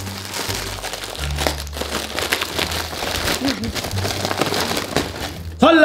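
A plastic bag from a US military meal ration is pulled open and handled, making continuous close crinkling and rustling throughout, ending in a louder tearing crackle.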